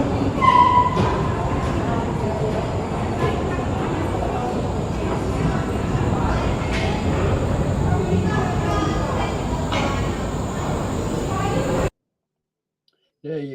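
An over-100-year-old train runs steadily with a constant rumble and repeated rhythmic clicking from the front for about twelve seconds before it cuts to near silence.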